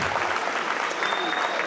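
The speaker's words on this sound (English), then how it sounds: "please give a round of applause to all these amazing athletes that we've seen on the stage tonight" A bodybuilding competition crowd gives the athletes on stage a steady, dense round of applause, broad and sustained with faint talk mixed underneath.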